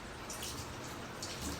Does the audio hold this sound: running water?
yes